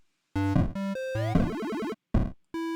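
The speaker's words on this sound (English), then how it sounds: "So that ringing effect occurs whenever you have a couple of notes in a row like this." Bright chiptune notes from a BeepBox browser sequencer play in short bursts, with quick repeated notes that ring together into a buzzy, overlapping tone, then a pause and two more tones. No voices.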